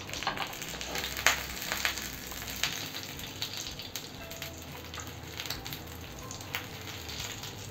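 Alu vadi slices pan-fry and get flipped in a pan, giving a soft, steady sizzle with occasional light scraping and clinks, fairly quiet and without speech.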